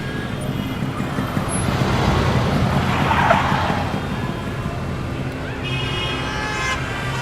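Road traffic rolls past with car horns tooting, engines and tyre noise building to a dense peak mid-way before easing off, close and loud.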